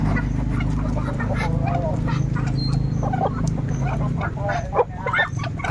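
Farmyard chickens crowd in as they are fed, clucking and squawking busily over a low hum, with a person's voice mixed into the flock noise.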